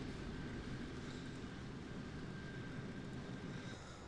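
Many aircraft engines drone together in War Thunder during a tank battle, a steady, dense roar with no clear individual passes, holding constant throughout.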